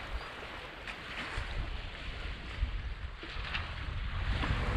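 A sailboat pushing through waves under sail, with continuous rushing water and wind buffeting the microphone, steady and fairly loud throughout.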